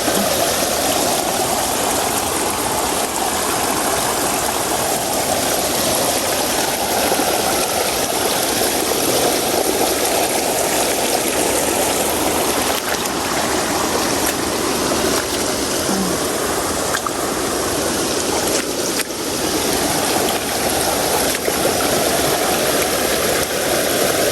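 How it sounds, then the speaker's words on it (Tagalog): Strong, steady rush of a flooding river overflowing its banks, loud and continuous throughout with a broad roaring texture and no voices. "May umaapaw din po dito. Malakas din po."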